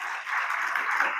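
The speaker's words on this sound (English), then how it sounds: "So give yourselves a round of applause." Audience applause at a fire preparedness meeting, a dense burst of many hands clapping together, steady and fairly loud for a brief moment with no talk over it.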